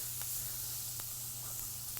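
Onions sizzle steadily in a hot pan, a constant close hiss with faint crackles and pops, steady and uninterrupted with no talking over it.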